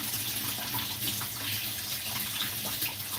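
Water runs steadily from a kitchen tap while a lemon is washed, a close constant gushing splash filling the short stretch without speech.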